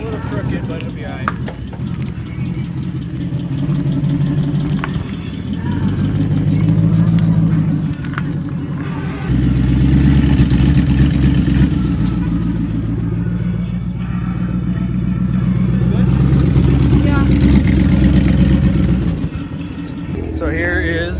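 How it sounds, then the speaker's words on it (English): Car engine idling roughly with a misfire after burnouts, a loud low rumble running throughout with uneven chop, while people talk over it. "it's misfiring when it idles"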